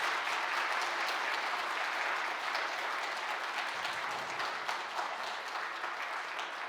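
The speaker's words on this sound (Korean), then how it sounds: "잠깐 자리에서 일어나시면 큰 박수로 격려하고 우리 축복했으면 좋겠습니다" A congregation at a Friday prayer meeting in a church claps steadily and warmly for the worship team, sustained applause that fills the room without pause.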